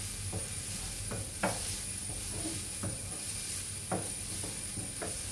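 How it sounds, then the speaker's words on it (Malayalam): Onions sautéing in a pan on a gas stove for chicken cutlets, a steady soft sizzle with occasional stirring scrapes and clicks, fairly quiet and continuous with no talking. "ഉള്ളി ഒന്ന് വഴറ്റിയെടുത്താൽ മതി"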